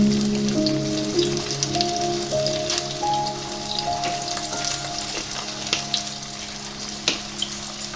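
Spices fry with salt and turmeric in a pan over a low gas flame, giving a soft, steady crackling sizzle with scattered pops, close and continuous without talk.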